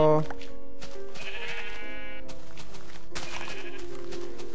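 Sheep bleating repeatedly in Minecraft while being sheared, loud game bleats layered with clicking and other game sounds, with a voice talking over them.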